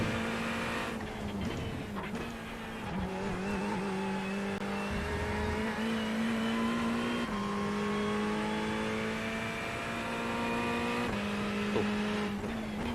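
Race car engine in the iRacing sim at the Portimao circuit, a steady loud drone holding revs for the whole stretch with brief dips and shifts, tire noise faintly underneath, no voices.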